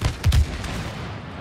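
Gunfire in the video game It Takes Two, a quick burst of two or three loud booming shots up close, followed by a fading rumble.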